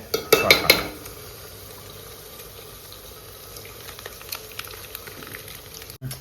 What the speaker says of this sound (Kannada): ಈಗ ಶುಂಠಿ ಬೆಳ್ಳುಳ್ಳಿ ಪೇಸ್ಟ್ ತಗೊಂಡು ಕಟ್ ಮಾಡ್ಕೊಂಡು ಅದನ್ನ ಈ ಆಯಿಲ್ ಅಲ್ಲಿ ಹಾಕೋಣ.